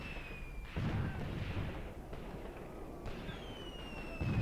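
Artillery fire in the wartime tactics game Graviteam Tactics booms in a few muffled, distant-sounding blasts with rumbling tails, under a faint whistling tone.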